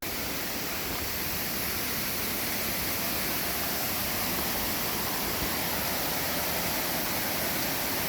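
Waterfall on a trout stream, a steady broadband roar of falling and splashing water that holds constant and close throughout, with no voices over it.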